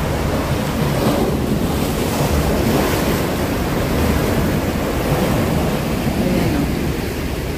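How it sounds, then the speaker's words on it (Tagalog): Sea waves crash and surge steadily against the Kennedy Town seaside, a loud continuous roar of churning surf mixed with gusty wind buffeting the microphone, no voices. "Mahampas yung tubig."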